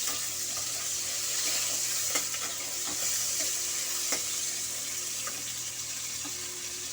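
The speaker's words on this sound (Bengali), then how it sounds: "একটু নাড়াচাড়া করে নিই" Spices and dried red chillies frying in hot oil with fish heads, stirred in a pan: constant sizzling hiss broken by soft scraping clicks of the spoon at irregular intervals.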